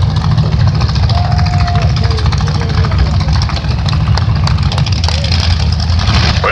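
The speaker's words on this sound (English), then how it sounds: "a dually crew cab with two supercharged Chevrolets in the bed of that pickup" Two supercharged Chevrolet engines mounted in the bed of a dually crew cab pickup rumble loudly and steadily at a drag raceway, a deep, continuous idle under a constant noisy crowd and track wash.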